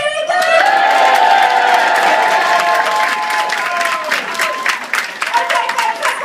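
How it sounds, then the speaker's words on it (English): A stand-up comedy audience bursts into loud applause with cheering and whoops, a dense wash of clapping that gradually thins toward the end. "round of applause and cheering"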